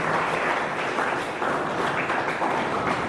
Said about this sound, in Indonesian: Untuk itu kita kasih aplaus untuk Pak Darus